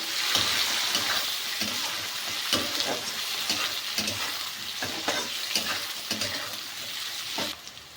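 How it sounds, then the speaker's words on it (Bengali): Cashew nuts and raisins sizzle and fry in a pan while being stirred, with scraping stir strokes and a steady crackling hiss at moderate closeness, no talk over it. "এখানে আমি দিয়ে দেব কিছু কাজু বাদাম আর কিশমিশ। ভালো করে একটু ভেজে নেব।"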